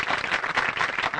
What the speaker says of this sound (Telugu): ఇది ఒక్కసారి అందరూ చప్పట్లు కొట్టండి